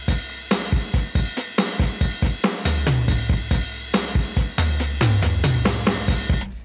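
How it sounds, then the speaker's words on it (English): A drum groove built on kick and snare with a shimmering ride cymbal and rolling tom hits, played steadily and loud with no talk. "the star of the show is the ride and the toms"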